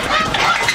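Several pet ducks kept on a homestead quack and honk in a loud, close, overlapping burst, with no talking over them.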